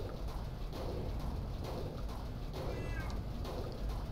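Flying bird creatures in the PSX horror game Silent Hill, with faint cooing, chirping calls over a steady, noisy ambient wash.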